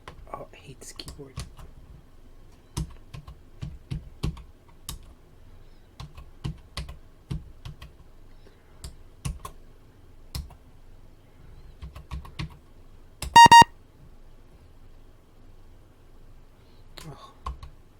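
Plastic keys clack steadily on a Tiger Learning Computer keyboard, close and fairly quiet, in irregular bursts of keystrokes with short pauses and a brief beep partway through; no one talks.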